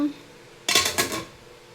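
Dishes and metal lids clatter briefly in a home kitchen as containers of freshly drained hot rice and lentil-ball curry are opened: a close, sharp burst of rattling knocks lasting about half a second, then quiet.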